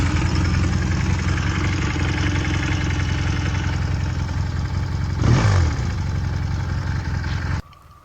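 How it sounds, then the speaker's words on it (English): A 1982 Honda CM200T motorcycle engine runs steadily after a kickstart, a close, even mid-pitched idle with a brief blip around five seconds before the sound cuts off near the end. "I will try not to fall over as I kickstart the bike here"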